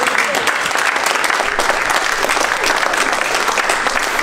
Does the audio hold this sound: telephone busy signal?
no